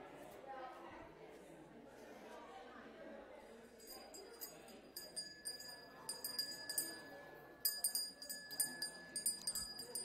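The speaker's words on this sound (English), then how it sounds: "Thank you so much for listening to the bell" A ringing bell, struck repeatedly with bright sustained metallic tones over a low murmur of background chatter, the strikes growing more frequent and prominent toward the end.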